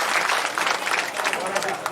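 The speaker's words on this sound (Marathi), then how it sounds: "एकदा जोरात टाळ्या वाजून त्यांना शुभेच्छा द्यायच्या" An audience at a retirement farewell ceremony for a primary school teacher claps in a dense, steady burst, with voices talking over the applause.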